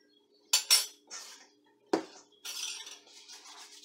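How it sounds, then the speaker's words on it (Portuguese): A spoon clinking and scraping against a bowl or pan while dough rings are being shaped for Brazilian rosquinhas, a few sharp close metallic taps followed by softer scraping and stirring. "Eu pego uma colher assim."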